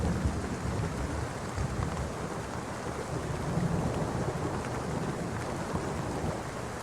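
Steady rain and a thunderstorm fill the scene with dense, even hiss and low rumbling, continuous and fairly loud, with no voices.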